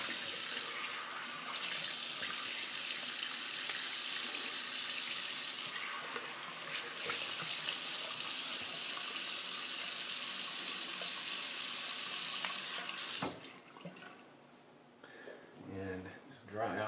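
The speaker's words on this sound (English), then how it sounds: "Just going to rinse off my face now." Tap water runs steadily into a bathroom sink as a face is rinsed, a continuous close hiss and splash that stops abruptly near the end, leaving faint drips and handling noises.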